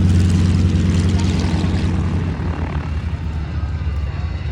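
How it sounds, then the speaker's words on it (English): T-28 propeller warbirds roar overhead at an air show, their loud, throbbing radial engine drone strong and close at first, then easing slightly as they pull away, with talk partly buried beneath. "Beautiful T-28s. Plus they're really loud, hard to talk over."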